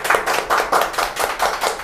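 A small group claps in a steady rhythm of repeated bursts, fairly close and clear, with no talking over it.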